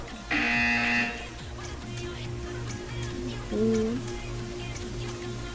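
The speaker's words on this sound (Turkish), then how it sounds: "You will hear a buzzer." A loud electronic buzzer in the game Portal 2 blares in a short burst, then a second, fainter tonal buzz follows a few seconds later over a steady background hum.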